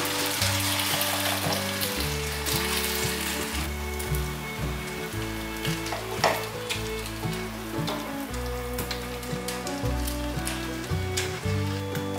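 Shredded potatoes, spread flat in a lightly oiled pan, fry with a steady, close crackling sizzle that runs throughout under soft background music.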